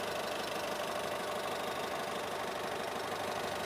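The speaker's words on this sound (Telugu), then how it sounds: "డీజిల్ ఇంజిన్ స్మూత్గానే ఉంది సార్" A 2021 Honda WR-V diesel engine idles with a steady, even low rumble and a faint knocking texture, heard close up under the bonnet with no voices.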